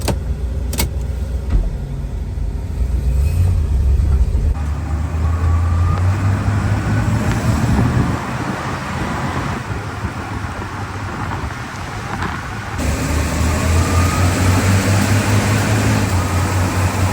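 A 1964 Chrysler Newport rumbles steadily along a road, back on the road after 15 years, engine droning with road noise throughout, with no voices.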